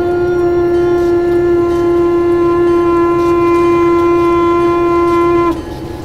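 Freight train in Train Simulator 2013 sounding a loud, steady horn-like tone with a rumbling low drone beneath for about five seconds, then cutting off abruptly and leaving the quieter engine rumble.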